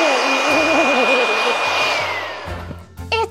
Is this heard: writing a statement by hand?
no